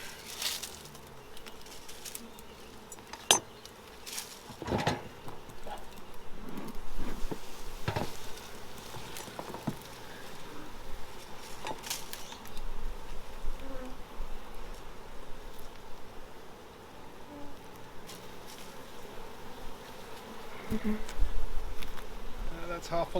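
Honey bees buzz continuously around open hives during an inspection, with a dense close hum and occasional louder passes near the microphone, mixed with soft rustling and handling knocks.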